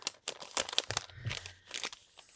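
Small stickers pulled from a tiny paper envelope nested inside another envelope, producing close, busy papery crinkles and rustles in quick bursts, with no speech.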